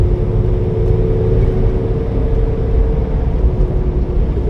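Steady, loud in-car road noise as a car passes a truck on a flooded road, a constant low engine and tire rumble with no distinct pass-by swell and no speech.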